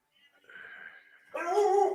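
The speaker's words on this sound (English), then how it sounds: "Your dog hears me. He's going crazy." A pet dog whines in a high, thin, wavering tone, then breaks into a louder, excited bark-whimper nearby, with no talking.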